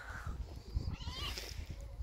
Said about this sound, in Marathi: ते बघा खालती मांजर आहे नुसती कटलवते. हे बघा फुल कटलवते मांजर.